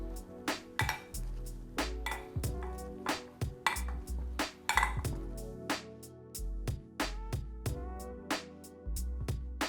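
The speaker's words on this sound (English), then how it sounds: "we're just going to take a masher and start to mash them up" Metal masher pressing drained chickpeas in a bowl, a steady run of sharp clinks and thuds against the bowl about twice a second, close and loud with no talk.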